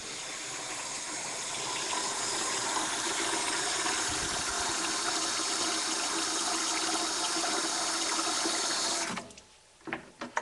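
A hot-water rinse pours into a cheese vat, a loud, steady rushing gush that runs for about nine seconds before cutting off into a few drips and splashes.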